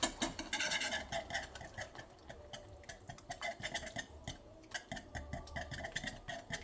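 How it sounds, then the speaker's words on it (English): Quick, light metallic clicks of a wire whisk beating eggs in a bowl, coming in uneven rapid runs with short pauses, fairly quiet and close. "Like this here whisking device."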